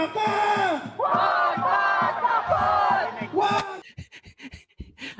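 A crowd of protesters shouts rhythmic chants in loud, repeated bursts, then breaks into scattered, fainter shouts and cries.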